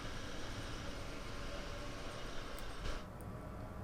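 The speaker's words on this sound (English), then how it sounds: "These electric trains are nice and quick to accelerate." An electric passenger train on the Aachen to Köln line in Train Sim World 2 gives a steady, dense rolling rumble and hiss as it gathers speed, heard alone with no talk.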